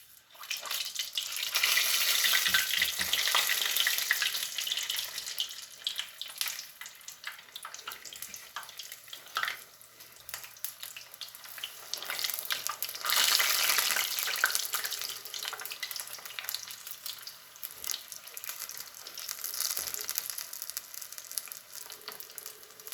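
Spoonfuls of corn fritter batter sizzle in hot frying oil, a steady crackling hiss close by that swells and eases as more batter goes in.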